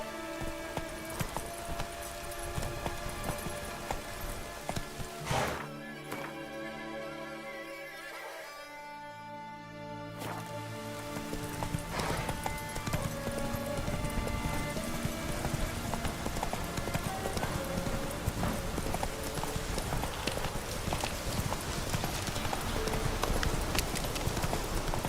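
Hooves of Geralt's horse Roach in The Witcher 3 clip-clop steadily through most of the stretch, a brief lull midway, then resume under layered ambient game sound and music.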